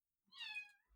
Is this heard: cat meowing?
yes